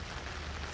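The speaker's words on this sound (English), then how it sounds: "Walking in the rain." Rain falls in a steady, dense patter on the morning walk, with no voices.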